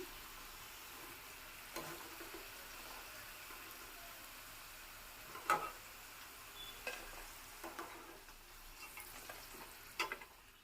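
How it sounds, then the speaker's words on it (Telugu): Cauliflower (gobi) pieces for gobi manchurian fry in hot oil with a steady, soft crackling sizzle, broken by a few sharper pops and clinks through the stretch. "మిగతా ఉన్న గోబీ ముక్కలను కూడా నేను ఆయిల్లో వేస్తున్నానండి"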